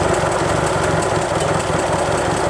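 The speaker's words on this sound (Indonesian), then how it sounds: "Nah, hiduplah mesin." Toyota Kijang engine idling close up in a workshop, a loud, steady, slightly rough mechanical drone with a constant low rumble and no talking.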